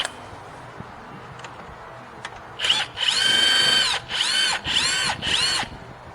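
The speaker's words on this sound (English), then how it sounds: "Go ahead and tighten those strut bolts now." A power tool tightens the strut bolts on a first-generation Hyundai Santa Fe, running in four loud whirring bursts that rise and fall in pitch, after a few faint clicks and no speech.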